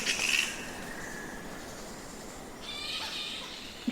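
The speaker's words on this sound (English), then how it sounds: "they have at least 30 different vocal calls, all of which are audible to humans" Shrill, chattering flying fox calls burst out near the start and again toward the end, over a steady background hiss.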